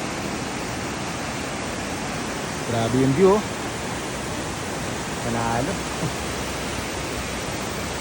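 Bridal Veil Falls on Kennon Road, swollen with rain, roars as a steady, loud broadband rush from start to finish, while someone speaks briefly over it.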